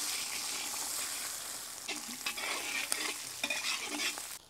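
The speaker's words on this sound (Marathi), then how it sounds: "इथे मी 1 वाटी खोबरं घेतलेले बारीक चिरून, आलं आहे आणि लसूण आहे, व्यवस्थित परतून घेऊ आपण" Finely chopped coconut, ginger and garlic frying in oil in a kadhai give a loud, bright sizzle, broken by bursts of spatula stirring and scraping toward the end.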